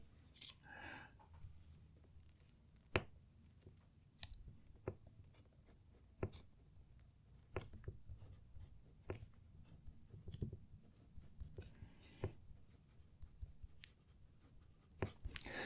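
A Lamy 2000 fountain pen scratches softly across paper in quiet, steady strokes, with occasional sharper taps and clicks.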